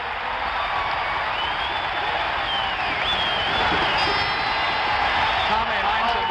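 Basketball arena crowd at the Phoenix Coliseum during an NBA Finals game between the Suns and Celtics: a continuous roar of cheering and whoops filling the hall, with shrill whistles rising above the steady wall of noise.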